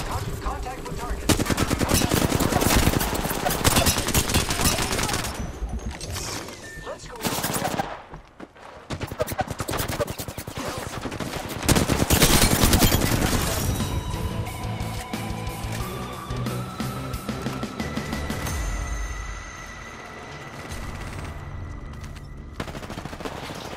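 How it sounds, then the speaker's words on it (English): Automatic weapon fire in the battle royale shooter Apex Legends, dense rapid bursts rattling loudly and continuously, with short gaps and overlapping shots over in-game tones. "Opening fire on the enemy."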